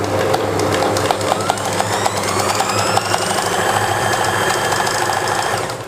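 A sewing machine stitches a fitting seam on a shirt: a steady, close mechanical whir with fine rapid ticking that runs without pause.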